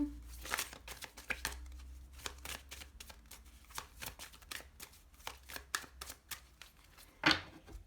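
A deck of tarot cards is shuffled and cut by hand, giving close, quiet bursts of riffling and flicking card snaps in an irregular rhythm, ending with one sharper slap.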